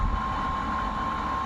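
A stand fan with a bearing problem runs with a steady, loud whirring drone and a rough rattling texture underneath, continuous and close, with no talking.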